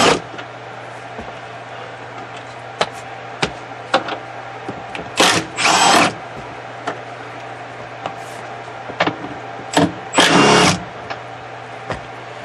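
Upper rear strut bolts being removed on a 2005 Toyota Highlander with 174K miles: a few sharp metallic clicks over a steady hum, then two short buzzing bursts from a power tool, one midway and one near the end.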